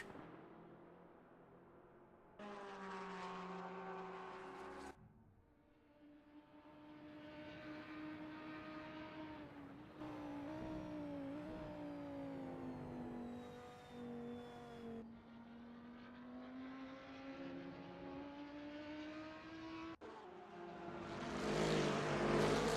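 GT race cars, among them a VP Racing Aston Martin and another British GT machine, screaming through Suzuka in a racing video game; high engine whine rises and falls with gear shifts over several passes, ending in louder rushing noise.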